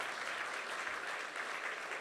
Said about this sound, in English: Let's give the Brennan Center another big round of applause.